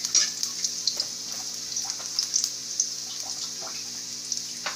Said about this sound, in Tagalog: Talagang nauuna yung paggisa.